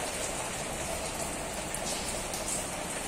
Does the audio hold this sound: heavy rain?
yes